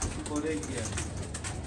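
Pet female pigeons cooing softly in a low, steady murmur at close range, with someone talking over them throughout.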